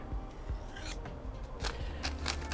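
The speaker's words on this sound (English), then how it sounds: "that edge on a ceramic rod. And all I'm gonna do is I'm gonna put the bevel and then lift it ever so slightly" A knife with a broken, convexed tip being sharpened on a ceramic rod, several short rasping strokes in quick succession, quiet and close, with no voices.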